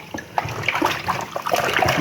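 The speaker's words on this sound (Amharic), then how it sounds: "እንደዚህ ቸፍ እያደረግንም እናጥባለን።" Raw chicken being washed in a bowl of water, with close, quick splashes and trickles in short irregular bursts and no one talking.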